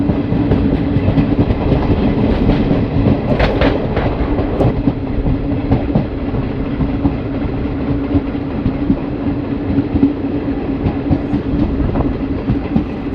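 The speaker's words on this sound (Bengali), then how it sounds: "ট্রেন তার ম্যাক্সিমাম পারমিসিবল স্পিড একশো দশ কিলোমিটার পার আওয়ার গতিতে ছুটে চলেছে" An Indian Railways Malda–Howrah Intercity Express runs at speed, near its 110 km/h limit, with a loud, steady rolling roar and rattling wheel clatter that continues throughout.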